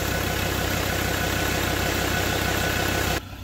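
A 2015 Ford Ranger Wildtrak 3.2 four-wheel-drive pickup idles with a smooth, even low-mid rumble, close and steady, then the sound drops away abruptly near the end.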